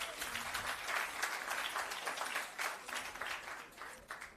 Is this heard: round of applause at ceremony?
yes